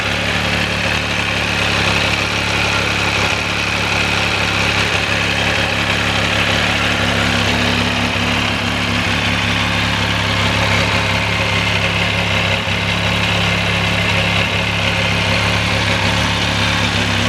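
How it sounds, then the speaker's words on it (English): An MV Agusta motorcycle engine idles steadily and loudly up close, a constant low, throbbing hum with vibration, and the revs rise slightly partway through, with no one speaking. "Give the throttle a bit for you as well."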